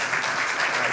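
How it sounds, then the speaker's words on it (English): Short burst of dense audience applause at a hospitality leadership masterclass, loud and close, lasting under a second. "Please give them another round of applause."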